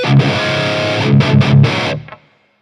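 Heavily distorted electric guitar played through an amp simulator with an Alnico-type cabinet impulse response, a dense sustained chord passage with a few rhythmic breaks, loud and close, ending with a quick decay into silence.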